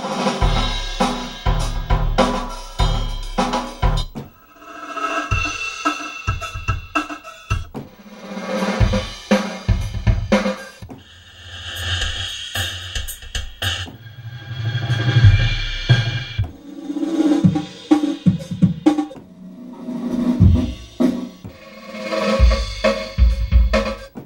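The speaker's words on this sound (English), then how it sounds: "Trash rooms are unique impulses, weird impulse sets that you can put the drums in." Acoustic drum samples are played through odd trash-room impulse reverbs in short separate bursts, each hit smeared into a dense, boomy wash, loud and close with no talking.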